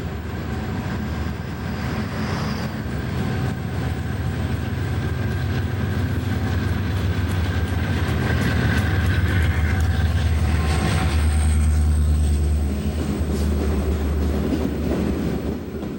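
A southbound Monongahela Railway freight train passes near a Pennsylvania Route 188 overpass in 1990, a loud continuous rumble of locomotive engines and rolling wagons swelling as it nears, with rail clatter and squeal, no talk.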